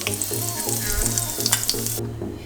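Raisins frying in hot ghee produce a bright, close sizzle with light popping and a low rhythmic hum underneath, cutting off sharply toward the end, no speech.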